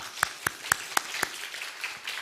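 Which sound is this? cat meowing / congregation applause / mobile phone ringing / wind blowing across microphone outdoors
congregation applause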